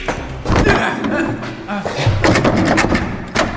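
A door slams shut with a heavy thud partway through, amid excited voices talking and shouting around it in a room.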